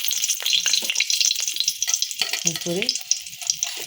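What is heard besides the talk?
spices sizzling in hot oil in a kadai for veg biryani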